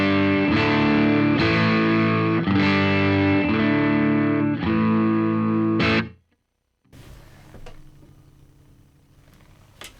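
Electric guitar through a Two-Rock amplifier with the reverb turned off plays a series of loud, distorted strummed chords for about six seconds, then cuts to near silence before some faint handling noise.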